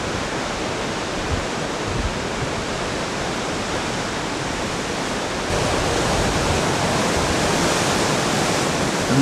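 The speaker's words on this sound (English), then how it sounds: "And shots of the waves rolling in from the Pacific." Pacific Ocean surf at San Francisco near the Cliff House roars steadily as waves roll in, a dense, continuous wash of noise that swells slightly louder partway through, with no voices.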